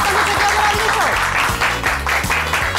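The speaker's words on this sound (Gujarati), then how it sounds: "જોરદાર તાળીઓ." Loud burst of clapping from a group of women on a Gujarati TV game show after a correct answer, steady rhythmic applause filling the moment without talk.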